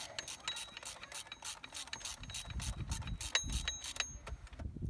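Ratchet-style torque wrench tightening bolts on the belt tensioner of a 2002 Pontiac Grand Prix 3800 Series 2 V6, a close series of quick, sharp clicking pawl strokes in bursts, with faint clunks of handling beneath.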